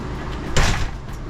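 An RV door is pulled shut with a single muffled thump and a short rattle midway through, over steady background noise.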